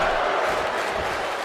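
A dense, steady roar from a wrestling arena crowd cheering in the WWE 2K25 video game, sustained at a constant level with no breaks.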